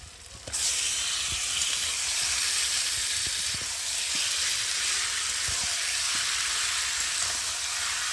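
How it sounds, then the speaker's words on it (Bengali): Marinated chicken fried in spiced masala, bursting into a loud, close sizzle that holds steady throughout, with occasional clicks and scrapes from stirring and no voices. "এখন এই যে মেখে রাখা চিকেনটাকে দিয়ে আমি ভালো করে কষিয়ে নেব"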